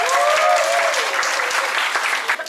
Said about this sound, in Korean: 여러분들의 뜨거운 박수로 한번 청해보도록 하겠습니다